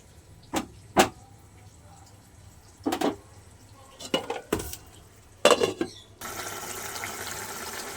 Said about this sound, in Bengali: চলো এবার ঢাকা দিয়ে দিই